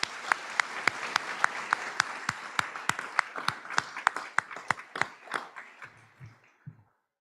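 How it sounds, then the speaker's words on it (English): A small audience at a university convocation ceremony claps for an award recipient, sparse distinct handclaps in a quick uneven rhythm that thin out and fade to silence. "So let's give Kim a round of applause."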